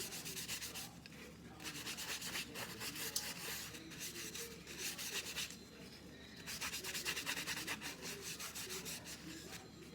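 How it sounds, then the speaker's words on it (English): Solid Crisco shortening being rubbed into a wooden spoon, a close, steady dry rubbing and scraping in rhythmic strokes with brief pauses, and nobody speaking. "take a spoon, get some Crisco solid, and you're going to rub it in"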